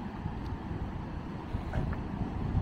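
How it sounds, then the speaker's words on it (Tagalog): Blustery wind rumbles low and steady against the microphone outdoors beside a highway in Tokoname, Japan. The gusts grow a little stronger toward the end, and no voices are heard. "wow, ang lakas ng hangin."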